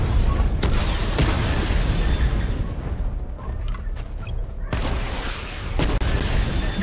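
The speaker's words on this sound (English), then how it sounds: "Destroy targets to charge up weapon energy and activate missile barrage." Missile barrage firing in a video game, a dense continuous roar of launches and explosions with sharp impacts, briefly thinning midway before surging loud again.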